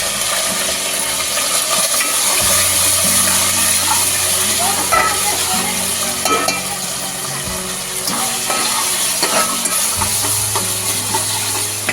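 Chopped onion frying in a pan for a Konkani-style crab curry gives a loud continuous sizzle, broken now and then by stirring scrapes and clinks, with a low hum underneath.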